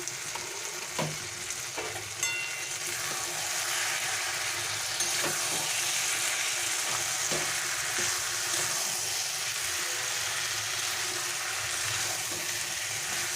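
Bottle gourd greens with matar dal cooking in a pan, a long steady close simmering sizzle with soft bubbling and occasional stirring clinks and scrapes, no voices.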